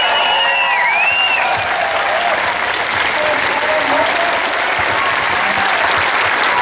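Crowd applause at an outdoor marriage equality rally in Taylor Square, Sydney, loud and continuous clapping from a large gathering, with faint whistles and cheering mixed in.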